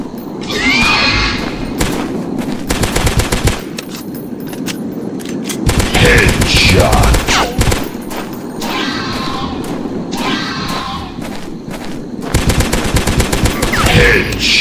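Loud rapid bursts of automatic gunfire in the dinosaur-hunting video game Dinosaurs Hunter, several sustained volleys separated by short pauses, with heavy thumps and a brief animal cry mixed in.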